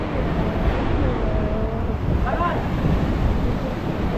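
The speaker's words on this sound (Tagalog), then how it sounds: "Cooper muna, malakas ang hangin." Strong wind roars steadily into the microphone outdoors near a hut, a dense, continuous buffeting rumble filling the whole stretch, with faint voices buried underneath.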